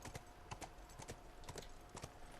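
Rhythmic clip-clop of horse hooves at a steady walking pace in the video game The Last of Us Remastered, close and clear, with a faint electronic hum beneath.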